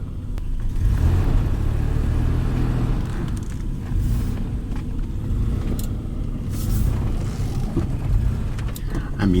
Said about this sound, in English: I mean, it's driving, kinda.